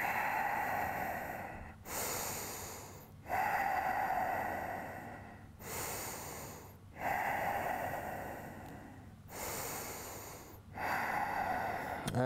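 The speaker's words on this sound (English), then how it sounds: "Deep breaths." Slow, deep breaths repeat in a steady rhythm during a stretch: loud, close, airy inhales and exhales separated by brief pauses, about five cycles with no talking.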